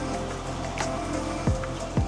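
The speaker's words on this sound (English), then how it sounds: "But it's definitely raining here." Heavy rain falls steadily outdoors, a dense continuous wash of patter with a couple of louder drips or splashes near the end, no voices.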